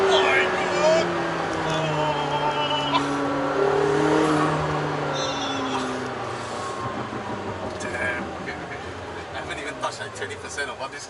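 A McLaren supercar accelerating hard on a public road, heard from inside the cabin as the engine note climbs through rising revs and then settles, loud and close, with people talking excitedly over it.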